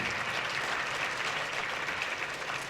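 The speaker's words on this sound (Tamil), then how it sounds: "கைத்தட்டலாமே." School audience of parents, teachers and staff at a Tamil speaking event clapping together: dense, even applause of many hands, moderately quiet and steady for the whole stretch, with no talk over it.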